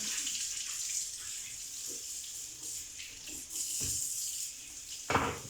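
Tap water runs steadily into a kitchen basin during dishwashing with soap, a continuous hiss with a few splashes and soft clatters near the end.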